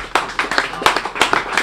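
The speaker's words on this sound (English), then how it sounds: "So if we could all give a round of applause" A small audience at a StartUp Toledo event claps briefly, a few distinct close hand claps in irregular rhythm rather than full applause, short and fairly loud.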